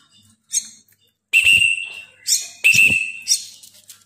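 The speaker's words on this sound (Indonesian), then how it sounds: "Jadi peluit itu nggak semestinya 1 tiupan, bisa juga 2 seperti ini teman-teman" A shrill whistle blown twice in quick succession as a signal to a young jalak kebo myna chick, each blast sharp and close, with short chirpy bursts between them.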